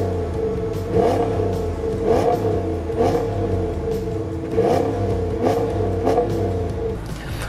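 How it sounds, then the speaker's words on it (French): 2021 Ram 1500 Limited pickup with a 400 hp V8 revved hard at full throttle, several loud rising engine bursts in a repeating rhythm, each falling back between pulls, heard alone without talk. "le son de son moteur à plein régime s'en rapproche"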